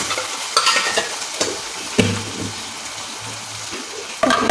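Ginger garlic paste frying in a hot pan, stirred with scrapes and clinks over a steady low sizzle. No one speaks.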